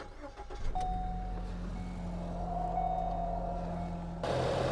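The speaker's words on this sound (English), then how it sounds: "Let's go ahead and start it up, make sure the belt is tracking, and we are complete." A 2013-2016 Ford Escape with a 1.6 liter engine starts up right after a serpentine belt and tensioner replacement, with a steady idle hum and a brief whine, ending in a louder surge of noise.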